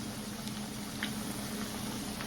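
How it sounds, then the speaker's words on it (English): Potato chips, or fries, cook in water at a steady rolling boil, a close, constant bubbling fizz with a low hum under it and no voices. "So you want it to be bubbling like that"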